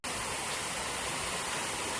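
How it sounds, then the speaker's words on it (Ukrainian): Water pouring steadily from a dragon-shaped fountain at the Dragon Bridge in Da Nang, Vietnam, a loud, continuous broadband rush like a close waterfall with no pauses or voices. "І вон з того дракона тече вода."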